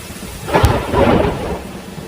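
A summer thunderstorm rumbles with a deep roll of thunder over steady rain, the burst swelling loudly then fading within a couple of seconds, no voices present.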